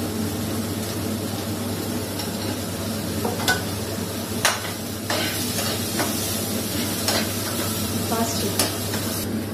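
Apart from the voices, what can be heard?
onions frying with salt in a pan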